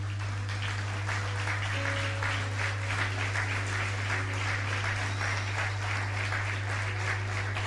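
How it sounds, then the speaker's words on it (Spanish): A church congregation applauds at a Spanish-language sermon, dense clapping sustained throughout over a constant low electrical hum and faint held tones. "Den un aplauso al Señor"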